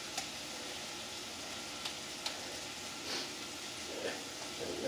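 Steady broadband hiss of burger patties sizzling in a hot pan, fairly quiet and continuous, with a few faint clicks and scrapes.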